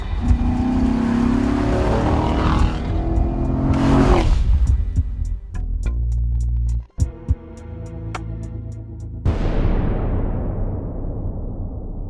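A 2014 Chevrolet Corvette Stingray Z51 C7 drives hard around a figure-eight course, its engine revving and surging with sharp cuts and bursts, heard alone without talk.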